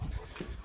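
A dog pants and lets out soft whimpers, close by, with low rumbling background noise throughout.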